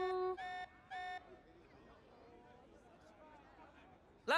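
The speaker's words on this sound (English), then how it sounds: "This alarm's worrying." An alarm in the video game Xenoblade Chronicles 3 blares in three loud, evenly spaced tonal bursts, then drops to quieter game ambience with low voices, and a final sharp burst cuts in at the very end.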